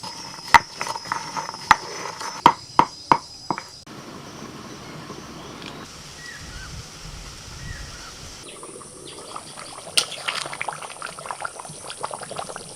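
Mutton curry with fried potatoes simmering in a covered pot on the stove, a soft steady bubbling hiss with clicks and clinks near the start and some birdsong in the background.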